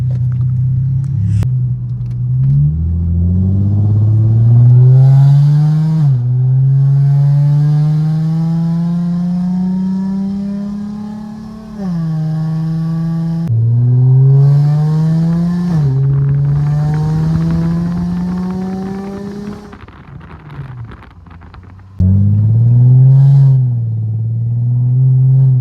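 An Infiniti G35 sedan fitted with a new Y-pipe exhaust drives and revs, its engine drone climbing through repeated rising pulls and dropping between shifts; loud, close, and continuous, with no talking.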